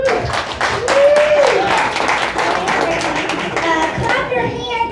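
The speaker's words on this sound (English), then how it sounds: "clap your hands if you are single" Audience members at a comedy show clap their hands in a brief, scattered burst while a performer talks over them.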